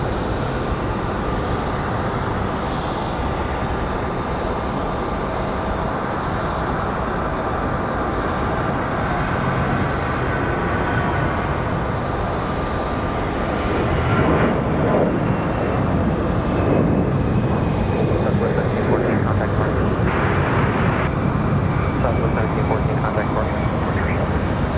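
A Delta airliner bound for Detroit roars on takeoff at Raleigh-Durham International, a loud sustained engine rumble that swells midway, with a person talking over it.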